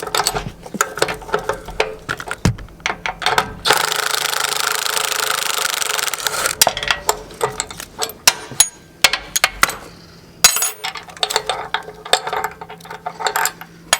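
A wrench ratchets rapid metallic clicks while chain bolts are loosened on a Toro Grandstand Multiforce mower deck, in irregular bursts broken by a few seconds of steady mechanical whirring and short pauses, close up with no talking.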